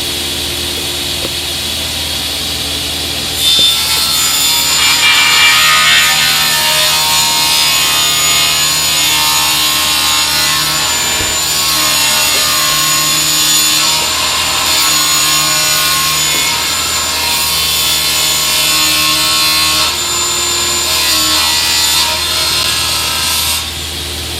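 A sliding table saw makes rough crosscuts and rip cuts through wood, its steady loud motor whine carrying a dense, sustained cutting roar that builds in after a few seconds and holds evenly without pause.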